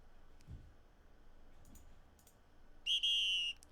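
A distant Scotland Yard police whistle sounds in a video game: one steady, shrill tone about half a second long, heard faintly over quiet background with a few soft clicks before it.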